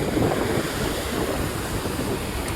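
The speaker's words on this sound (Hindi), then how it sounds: "तो समुद्र की भी आवाज़ आ रही है, वो जो लहरें आती है ना उसकी आवाज़ आ रही है" Sea waves and strong wind on the stormy coast at Porbandar, a dense continuous roar of surf with gusty wind buffeting the microphone, loud and close, no voices.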